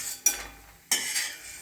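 Papad pieces stirred in a small amount of oil in a pan, with two sharp metallic scrapes of a spoon against the pan and a soft background hiss between them.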